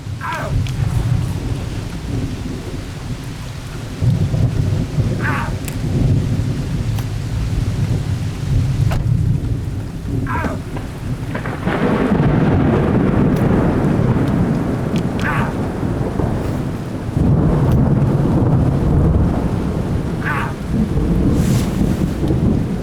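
Thunderstorm in the Long Drive North RV Simulator video game: steady heavy rain and wind noise with deep rolling thunder swelling in repeated surges, loud and continuous throughout.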